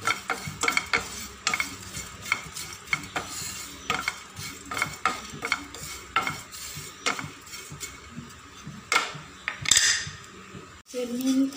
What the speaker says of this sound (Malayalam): ചെമ്മീനൊന്ന് വറുത്ത്